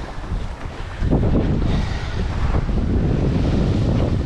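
A sailboat under way heeling in the wind, with steady loud wind rush across the microphone and water washing along the hull, growing stronger after the first second and continuing unbroken.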